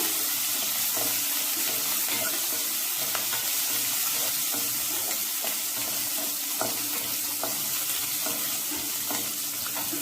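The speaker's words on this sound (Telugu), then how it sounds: "కొంచెం పచ్చిమిర్చి కొంచెం మసాలా దినుసులు ఇవి కొంచెం వేయించుకున్నాము" Green chilies, cumin and whole spices fry in a pan for a restaurant-style palak paneer, giving a steady, dense sizzle with faint crackles and occasional light pops, close and unbroken for the whole stretch, with no talking.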